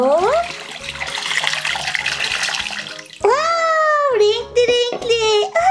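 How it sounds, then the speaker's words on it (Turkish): Orbeez water beads pour into a big bathtub in a Masha and the Bear cartoon, making a rushing, watery pour for a few seconds, followed by bright musical tones and cartoon sounds. "Hadi ilk önce benim orbezimi dökelim."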